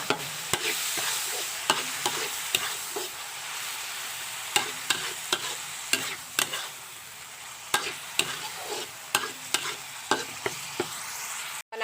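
Chicken giblets stir-fried with oyster sauce and soy sauce in a pan for Thai basil stir-fry, a steady loud sizzle broken by frequent sharp clacks of a spatula scraping and tossing.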